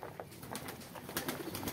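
Foreign pigeons kept inside an enclosure, soft low cooing with faint rustles and wing movements, quiet and close, with no talk over it.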